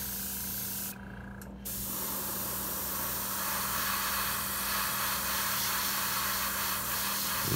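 An airbrush sprays flow pink paint onto a walleye lure over a stencil with a steady close hiss, cutting out briefly once before resuming and running continuously.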